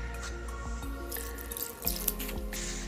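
Water trickles and splashes as it is poured little by little into millet flour for kneading dough, a steady close pour with small drips and no talking.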